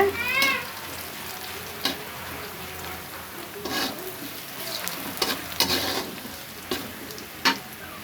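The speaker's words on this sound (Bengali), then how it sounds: "সেই তেলে পেঁয়াজটা ভাজা যাচ্ছে।" Oil sizzles steadily in a pan as onions fry, with occasional scraping stirs and louder crackling bursts, close up and with no talking.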